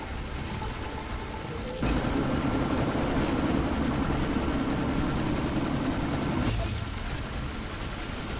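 Helicopter in the video game Deus Ex: Mankind Divided: a steady rotor drone in the background, briefly growing louder and thicker for several seconds in the middle before dropping back to a fainter hum.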